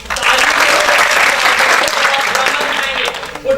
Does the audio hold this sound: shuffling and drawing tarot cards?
no